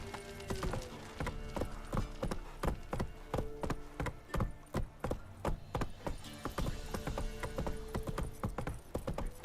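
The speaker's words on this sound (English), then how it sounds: "Run, Roach" Horse hooves gallop in The Witcher 3: Wild Hunt, a fast, steady clip-clop with sharp wooden-sounding strikes that continue throughout, close and loud with no talking.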